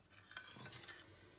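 Waffle batter ingredients being stirred in a bowl, a quiet scraping and clinking of utensil against dish with a few soft bursts, close by and alone.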